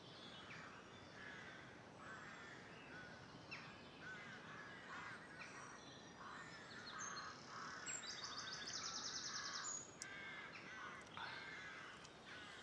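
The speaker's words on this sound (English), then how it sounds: "whilst I'm listening to the birds," Birds calling outdoors on a countryside walk in light rain, with crow-like caws and scattered chirps carrying faintly over a steady rain hiss, a brief high chattering burst standing out midway.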